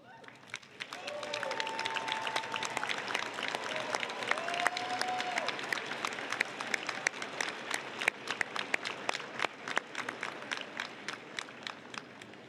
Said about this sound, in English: let's stand and give a big round of applause to those who have supported your arrival at this